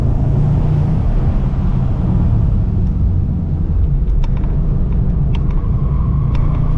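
The exhaust of a Bentley Continental GTC Azure rumbles deep and steady from inside the cabin while cruising, a continuous loud low drone with faint clicks over it.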